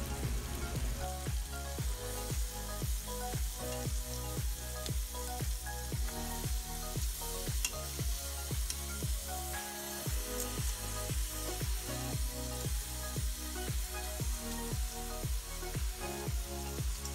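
Steady, loud sizzling of chicken legs frying in hot oil in a pot, continuous crackling and popping with no voices.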